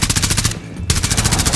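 Rapid automatic gunfire from the Rainbow Six Siege video game, a close, loud burst of shots with a brief gap before the firing resumes, with no speech.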